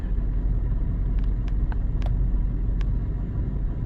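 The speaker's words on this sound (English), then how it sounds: "I'm going to start accelerating slowly from a stop" A 2007 GM truck with a failing cheap wheel bearing and unwarranted ABS actuation pulls away slowly from a stop, a steady low engine and road rumble with a few faint clicks over it.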